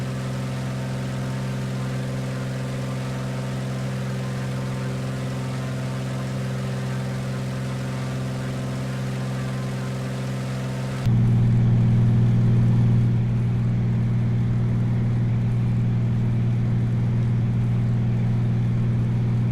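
A de Havilland DHC-2 Beaver floatplane's engine in a flight simulator game drones as a steady, even hum. Partway through it jumps to a louder, deeper tone and holds there, with no voices.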